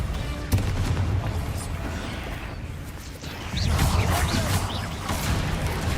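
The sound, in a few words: Confringo blasting spell from the video game Hogwarts Legacy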